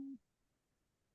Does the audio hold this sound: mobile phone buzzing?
yes